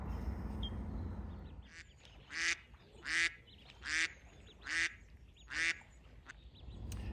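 Ducks quack on open water in spring, a run of five loud, evenly spaced bursts of calls that come in close after a quiet stretch of low background rumble.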